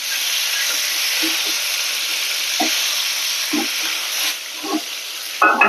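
Sliced ridge gourd fries in mustard and poppy seed style in a pan, a steady close sizzle and hiss with a few soft clinks as the lid is lifted.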